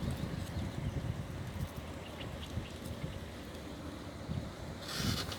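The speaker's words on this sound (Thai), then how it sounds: "ลมแรงมาก" Strong wind blows into the microphone outdoors while someone hand-pollinates ground lotus flowers, making a steady hissing rumble with a brighter gust near the end.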